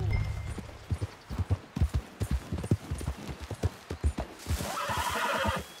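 Horse hooves clip-clop at a steady trot in the Red Dead Redemption 2 video game, close and loud, followed by a sharp neigh at the end over a rumbling background.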